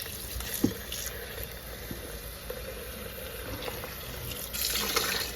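Hot water spraying from a hose nozzle onto pumpkin seeds in a strainer, a steady close hiss of water with light splashing that swells slightly toward the end.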